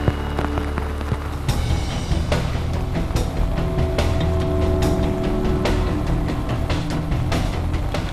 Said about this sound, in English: The two head back while the rain continues to pound.